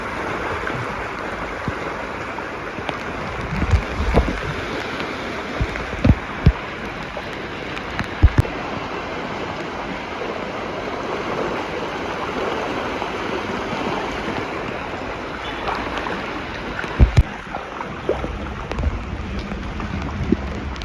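Cyclone floodwater rushes like a river across a Chennai beach, a continuous broad roar of flowing water mixed with gusty wind buffeting the microphone and occasional sharp knocks.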